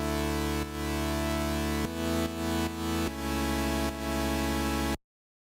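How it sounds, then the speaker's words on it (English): A single Serum oscillator playing a raw sawtooth wave, buzzy and harmonically dense, holding loud sustained notes that shift pitch a few times before cutting off abruptly, with nothing else heard. "it's basically a sawtooth wave"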